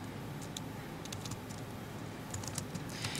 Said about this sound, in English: I'm going to go ahead and type in my teacher's supplied username